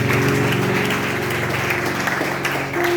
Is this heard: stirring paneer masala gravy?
no